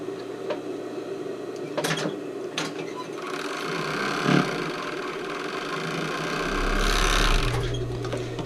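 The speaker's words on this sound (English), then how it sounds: "I'm also going to overlock the sides, because I believe these just get folded down." Overlocker stitching the sides of a sailor shirt, a steady close mechanical whir with a quieter rhythmic hum that swells toward the end, a few clicks and thumps of handling.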